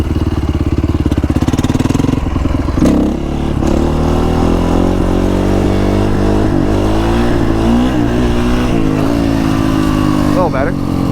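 A Honda CRF450R dirt bike roars close and loud while being ridden, its engine revving up and down through rising and falling pitch with rough, throaty power and no pauses.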